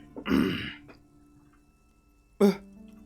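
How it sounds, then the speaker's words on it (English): Someone outside an open window coughs twice, a rough throaty burst followed by a shorter one about two seconds later, fairly close and clear against a quiet background. "Someone outside has a cough."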